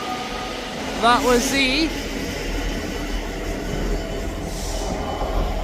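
A ScotRail class 385 electric train departs Edinburgh Haymarket, rumbling steadily with a brief wheel squeal and some rising whine, while a voice speaks briefly over it.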